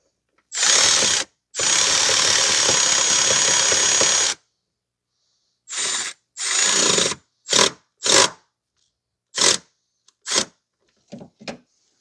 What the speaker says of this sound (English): Tighten up the bolt a little bit.